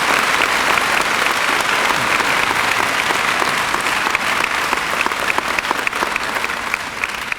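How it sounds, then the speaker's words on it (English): School veterans appreciation assembly audience giving Army veterans a sustained round of steady, dense clapping from a large crowd, even in loudness throughout with no voices standing out. "How about a very nice round of applause for our Army veterans?"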